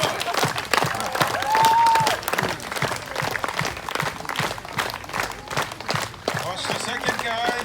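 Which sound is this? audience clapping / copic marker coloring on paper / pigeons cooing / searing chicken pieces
audience clapping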